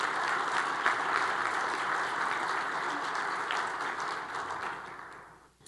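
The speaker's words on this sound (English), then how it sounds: "Let's give them a round of applause." An audience at the 2015 Duluth, Minnesota State of the City Address gives steady, dense applause that holds evenly for several seconds before tapering off at the end.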